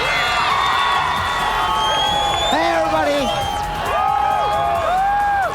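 A crowd at a video game event cheers and whoops in front of a huge 80-foot screen, loud sustained shouting with rising whoops; someone speaks over it.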